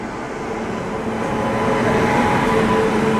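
Mumbai Rajdhani express train with push-pull locomotives rolling past, a loud, steady rumble of wheels and carriages that builds slightly, close by, without speech.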